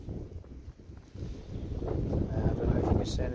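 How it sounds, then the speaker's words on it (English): Gusty wind buffets outdoors, rising and growing stronger, with low rumbling microphone noise and no one speaking. "It's pretty damn windy."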